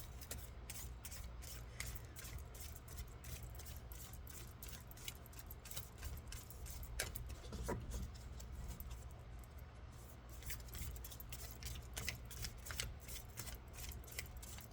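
Oracle cards shuffled by hand in a quiet room, a rapid run of soft papery riffles and flicks that sound close but faint, continuing steadily with no talk.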